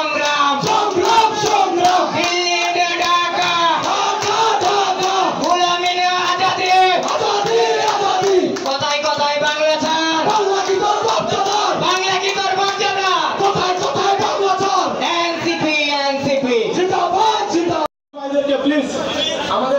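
A large crowd chants political slogans in loud rhythmic unison at a student movement gathering along the road from Cumilla to Brahmanbaria, with repeated call-and-response phrases and a brief break near the end.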